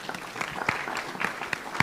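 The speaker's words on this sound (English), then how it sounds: "Let's clap hands for them as they are sitting down." Audience applause at a cybersecurity tech hackathon, steady close clapping from many hands throughout, without pause.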